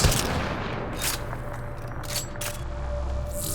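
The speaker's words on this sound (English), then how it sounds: "I shoot my gun" Several separate gunshots ring out in Mass Effect Andromeda combat, spaced irregularly over a low background hum, moderately loud and close.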